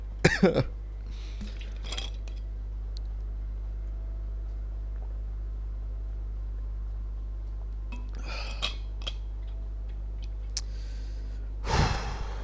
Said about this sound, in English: This cough is unbearable.